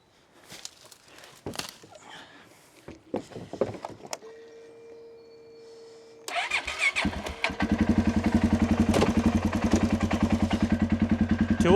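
Polaris Sportsman 570 ATV starting after repair: a few clicks and knocks, a faint whir, then the engine fires and settles into a steady close, throbbing idle that grows louder toward the end.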